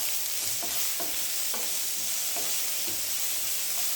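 Mulberry leaf thoran stirred in a frying pan, a steady sizzle running throughout with soft, regular scraping strokes of the spoon every half second or so, close and alone.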